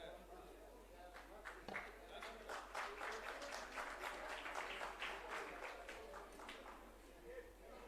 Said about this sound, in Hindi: तो जोरदार तालियां इस परंपरा के लिए भी और इन कलाकारों के नृत्य के लिए भी।